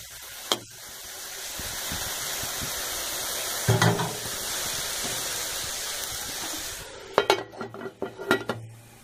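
Elbow macaroni with soy sauce is stirred and fried in a pan, a steady sizzle running underneath while a utensil clinks and scrapes against the pan at the start, midway and in a busy flurry near the end.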